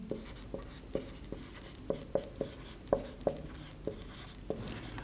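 Marker or chalk strokes on a board during a class 11 maths lecture, a dozen short sharp taps and scrapes at an uneven pace, close and fairly quiet, with no talking.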